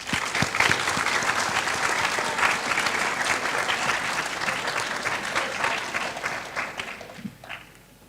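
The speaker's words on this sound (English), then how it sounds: "I think that deserves a round of applause." Audience applause at a middle school eighth grade awards ceremony: sustained, dense clapping from a large crowd, steady and loud for several seconds before tapering off near the end.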